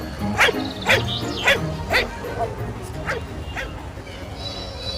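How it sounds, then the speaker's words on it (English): A dog barks in a quick series of sharp, close woofs, about six in a row, fading into softer yips near the end. "D for dog. D for dog."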